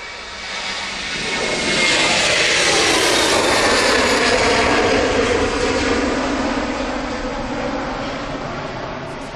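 Ryanair jet airliner engines roaring at Manchester Airport, a loud broadband rush that swells over the first two seconds, holds steady, then eases slightly as the aircraft passes, with no voices.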